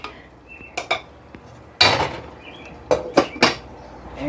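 A spoon stirs rice in a pot on the stove, giving a few sharp scraping clacks and knocks against the metal, scattered irregularly and close by.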